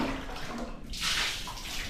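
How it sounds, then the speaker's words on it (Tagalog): Water running toward a drainage hole on a freshly cemented right of way, a soft gushing wash that swells briefly midway, faint and close. "Oh, yung tubig."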